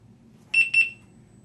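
Two short electronic beeps in quick succession from a Begode electric unicycle, a clear high tone pulsing twice, over a low steady hum.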